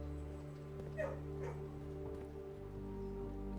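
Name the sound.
dog in the Blue Prince video game kennel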